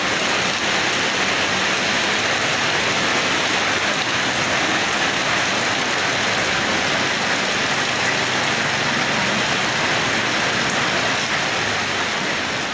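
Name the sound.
heavy rain during road tarring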